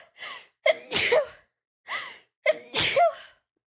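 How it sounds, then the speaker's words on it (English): Two sneezes from a person with dust-irritated sinuses, each preceded by sharp gasping inhales before the explosive burst, loud and close with brief pauses between them. "I'm gonna sneeze"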